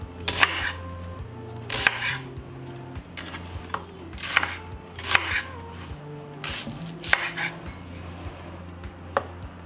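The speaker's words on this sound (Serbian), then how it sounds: "Iseći ću luk na komade jer ću ga stavljati u secka" A knife chops onions on a board in a home kitchen, a steady series of sharp, close taps in irregular bursts.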